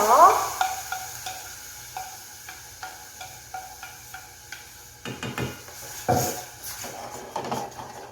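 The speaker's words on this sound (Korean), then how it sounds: "마늘과 양파 향이 싹 올라오면 이때 토마토 소스 뚜루루 다 넣어주시고요" Tomato sauce goes into sizzling garlic and onion for a seafood tomato spaghetti, followed by a spoon stirring and knocking against the pan in a regular rhythm over a soft frying sizzle, close and with no voices.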